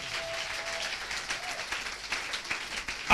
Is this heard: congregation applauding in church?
yes